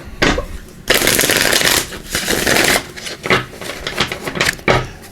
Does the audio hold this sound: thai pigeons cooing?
no